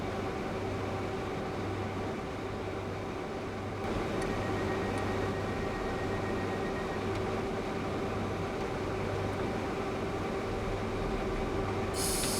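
A Class 319 electric train departing Luton Airport Parkway in Train Simulator 2015, a steady low rumbling drone with a constant motor hum that thickens slightly as it gets under way, with no talking.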